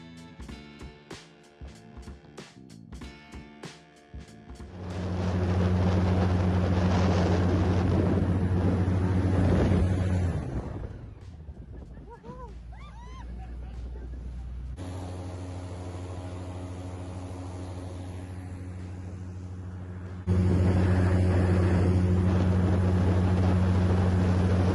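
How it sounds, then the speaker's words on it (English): An airboat ride through the Florida Everglades, a steady loud engine-and-propeller drone that swells in, eases off midway and surges back strongly near the end, heavy wind rush over the microphone. "But we still did our own airboat ride"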